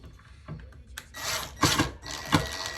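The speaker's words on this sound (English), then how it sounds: "So just I'm going to screw this now." A power drill whirs in short bursts, driving a screw into wood while installing drawer slides, with brief grinding pulses separated by pauses.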